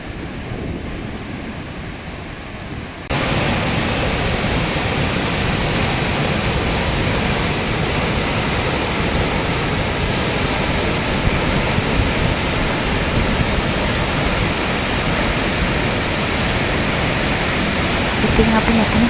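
Puna Ella waterfall at Ramboda, Sri Lanka, pours as a constant broadband roar, quieter for the first few seconds and then louder and steady.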